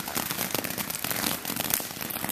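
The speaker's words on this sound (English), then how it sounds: "that's insane fireworks" Fireworks crackle densely in a backyard display in Connecticut, a continuous rapid spray of sharp pops and snaps at moderate loudness with no talking.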